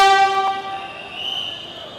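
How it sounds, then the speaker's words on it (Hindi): A Patna Metro train pulls away, a loud tonal horn-like whine with stacked harmonics opening strongly and then easing into a steadier, quieter hum as it departs. "अब ये मेट्रो खुलेगी, आगे जाएगी"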